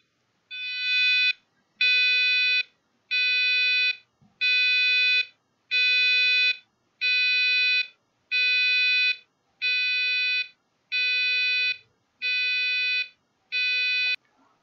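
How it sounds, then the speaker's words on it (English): A shrill electronic passive buzzer driven by a PIC16F877A microcontroller sounds an emergency tune in eleven evenly spaced bursts, each about a second long, loud and alone. "this is the buzzer. As you can see, it is giving a distress call"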